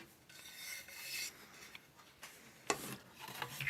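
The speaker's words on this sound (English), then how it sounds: "I'll flip it over now and just sand the back a little bit" Soft, scratchy strokes of sandpaper rubbing across wood, in short irregular passes, close and fairly quiet.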